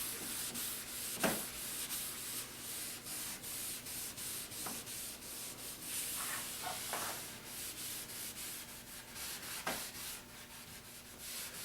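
Steady rubbing of finish into a sanded wooden tabletop, continuous and close, with a few brief knocks scattered through.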